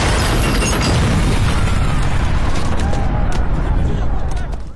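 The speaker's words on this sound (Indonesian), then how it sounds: "ketika gerbang itu berhasil didobrak, ledakan pun terjadi dan terdengar sangat keras" A booby-trapped temple gate blowing up in a film, a loud, sustained roar of blast and debris that fills the whole stretch, then tapers off at the end; faint voices can be heard.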